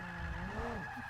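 Tires squeal in a sustained skid as a car drifts in Forza Motorsport 5, a brief, steady screech over engine drone, with a voice faintly underneath.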